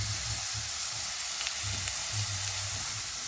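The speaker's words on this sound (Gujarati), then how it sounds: "અને એને પણ તેલમાં થોડો શેકી લેવાનો છે બરાબર" Frankie masala roasting in hot oil in a pan, a continuous loud sizzle and hiss with faint low stirring scrapes, steady throughout and with no voices.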